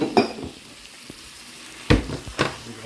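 Vegetables sizzle in a hot pan with Worcestershire sauce added, a steady frying hiss broken by a few sharp scrapes and clanks of stirring against the pan, close up, with no speech.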